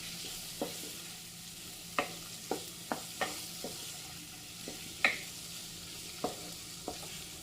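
Papaya pieces stirred in a pan, with a dozen or so distinct utensil scrapes and taps against the pan over a faint background sizzle, close and quiet.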